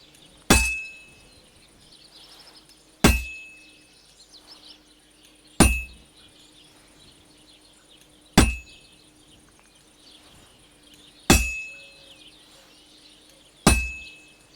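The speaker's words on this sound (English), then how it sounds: "Now take the hammer and try hitting it a few times." Six sharp, ringing hammer blows on metal at a forge in Kingdom Come Deliverance 2, spaced evenly about every two to three seconds, each a bright metallic clang that decays quickly into a quiet background hum.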